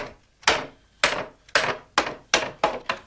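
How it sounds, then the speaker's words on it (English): A cooper hammering wooden barrel staves level, seven sharp resonant wooden knocks at a steady, slightly quickening rhythm, close and loud with short ringing decays and no talk. "you straighten the bottom of it by hammering the staves level"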